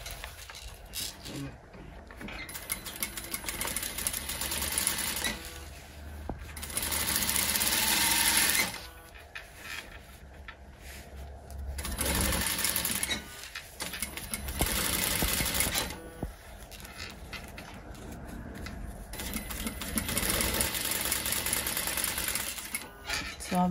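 A home sewing machine stitches fabric for a homemade nose-and-mouth face mask, running in several bursts of rapid needle rattling separated by pauses, with people talking in between.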